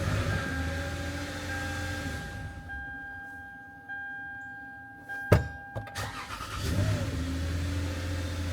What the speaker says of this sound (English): I'm just gonna go and start the car because I pulled the battery.